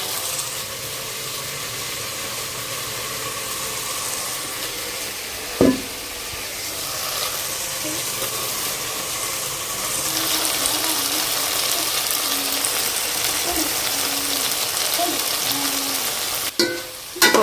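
Meal maker soy chunks frying and being stirred in a pan with ginger-garlic paste for home-style biryani, a steady close sizzle throughout with a few sharp clatters of the spoon against the vessel.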